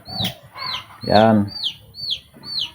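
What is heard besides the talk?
pet chickens clucking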